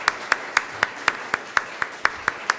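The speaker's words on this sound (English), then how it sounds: "So, a round of applause." After a conference panel, crisp, evenly spaced claps ring out about four per second, close and distinct like a single pair of hands over a quiet room.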